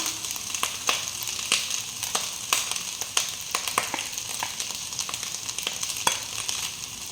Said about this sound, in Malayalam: ഇനി നമുക്കതിലേക്ക് ഒരു ലെഗ് പീസ് വെച്ച് കൊടുക്കാം